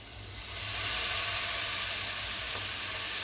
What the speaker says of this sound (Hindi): अब इसमें मैं सोया सॉस ऐड कर रहा